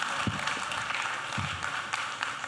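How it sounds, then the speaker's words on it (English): Audience applause at a magic night performance, a steady broadband wash of clapping lasting throughout, fairly distant and moderate in level with no clear talk over it. "Give her a close. huge warm round of applause"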